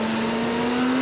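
A 2022 BMW K1600 GTL touring motorcycle's engine holds a loud, steady high-pitched drone at speed, heard close up and without talk.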